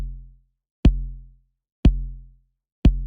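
A software-made kick drum built from two layers hits four times at a steady pace about one second apart, each a deep booming thump with a sharp attack that decays into silence.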